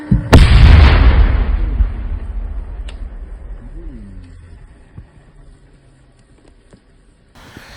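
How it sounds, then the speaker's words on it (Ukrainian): A loud explosion booms at the start, then a long rumbling decay fading over several seconds, with a faint bird call in the quieter tail. "Вибух."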